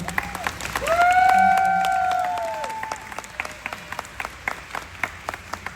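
Convention panel audience applause swells into a loud, dense burst of clapping, then thins to scattered individual claps; a sustained tonal sound rings over the peak.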